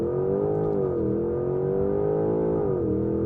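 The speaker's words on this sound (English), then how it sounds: "To engage launch control, I go into the Sport Plus drive mode, hold my foot firmly on the brake, pin the throttle, get ready for launch" A 2025 Porsche Cayenne GTS Coupe accelerating hard from a launch-control start, its engine roaring loudly and continuously from inside the cabin, with the pitch climbing and briefly dipping at two gear shifts.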